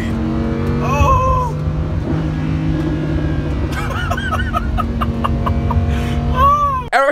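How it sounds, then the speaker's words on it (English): Loud, continuous engine and exhaust roar of a Lamborghini being driven, a steady drone throughout with a brief exclamation and chirpy background sounds near the end. "Gosh, the sound of the exhaust is crazy."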